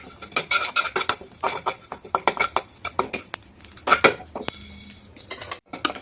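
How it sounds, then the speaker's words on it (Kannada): Sesame seeds are roasted in a pan for puliyogare while a utensil stirs and scrapes them, giving quick irregular metallic clinks and scrapes, close and clear with no talking. "ಎಳ್ಳು ಹುರ್ಕೊತಾ ಇದ್ದೀನಿ"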